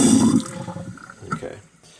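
Boiling water poured into a clogged drain already dosed with baking soda and white vinegar: a loud rushing gurgle at the start that thins out and fades over about two seconds.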